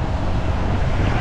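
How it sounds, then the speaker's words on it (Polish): Strong gusty wind on a stormy day, a steady loud roar buffeting the microphone throughout with no voices. "Ale ładnie dyma wiatrem, powiem wam."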